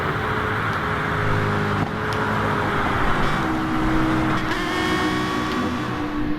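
Race cars in GT Sport roar together on an oval track, a dense, steady engine drone with cars passing close by and faint tire squeal, loud and continuous throughout.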